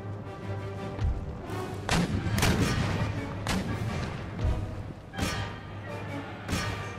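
A musket volley in the Empire: Total War battle game: repeated sharp cracks and booms at irregular intervals over a rumbling battlefield bed, loud and fairly close.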